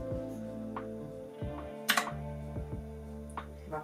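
Fingers type on an American-layout computer keyboard, producing a quiet, uneven run of soft key clicks over a low steady hum, with no one talking.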